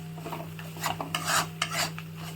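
Spices, ginger among them, and vegetables being stirred and fried in a pan for Gobindobhog rice khichdi: scraping and clinking of a spatula against the pan in short irregular strokes, close and fairly quiet over a steady low hum, no voices.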